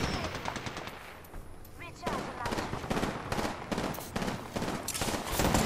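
Gunfire in a shooter video game sounds in rapid bursts of automatic shots, fairly loud and repeated, with a brief lull before the firing resumes more densely.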